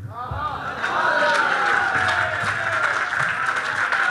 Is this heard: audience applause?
yes